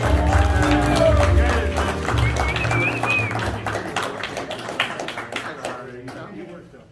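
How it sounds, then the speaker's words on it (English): Wedding reception guests clap and cheer for the newlywed couple, a crowd's applause mixed with loud music and an announcer's voice, gradually thinning out toward the end. "Another round of applause for Aziza and Peter"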